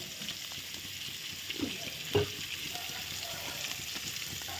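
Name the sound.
potatoes frying in a pan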